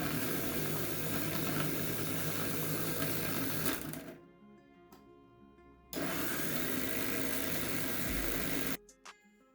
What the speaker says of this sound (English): Fixing the motor mount to the frame now. There it is. Let's power it.